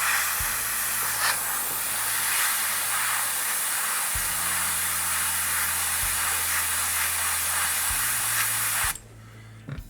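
An airbrush sprays white paint onto a miniature Drukhari Raider model, a steady close hiss running for several seconds with a low compressor hum cycling underneath before the spray cuts off near the end.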